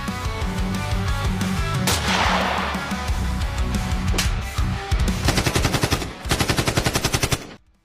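Rapid cartoon gunfire in a comic Tagalog animation, fast machine-gun bursts rattling loudly and continuously, ending in a string of sharp evenly spaced shots.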